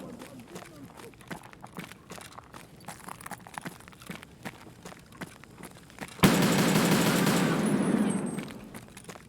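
Rapid PPSh submachine gun fire in The Punisher video game, scattered shots and footsteps giving way to a loud, sustained burst of automatic fire that fades out, with in-game voices mixed in.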